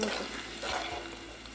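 Ingredients for carrot payasam frying toward golden brown, a brief, steady close sizzle with a soft stirring scrape, no talk.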